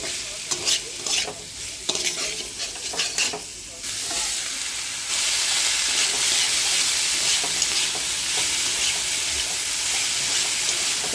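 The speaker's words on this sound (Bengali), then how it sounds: "এবার এগুলো একটু ভেজে নেব।" Chopped soup vegetables and green chilli fry in hot oil in a pan, with a loud, steady sizzle that swells after a few seconds and holds, broken by scraping and stirring knocks.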